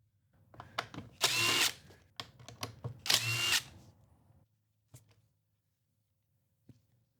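A power driver whirs in two loud bursts, each about half a second, as it backs screws out of the cover on a Husqvarna blower, close by, with small clicks and taps between and after.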